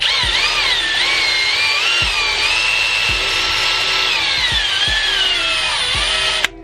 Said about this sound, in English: now you want to grab like a wire brush or some sandpaper, and basically just gonna sand all this rust away